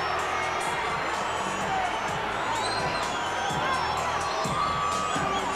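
A boxing arena crowd at a James Toney fight keeps up a dense, steady roar of cheering and shouting, distant and continuous, with speech mixed faintly into the din.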